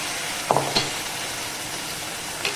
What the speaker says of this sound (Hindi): अब हम इसके अंदर जो हमने ये प्यूरी बनाई थी टमाटर और प्याज की, उस प्यूरी को इसके अंदर ऐड कर देंगे